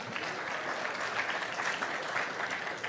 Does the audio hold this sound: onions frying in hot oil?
no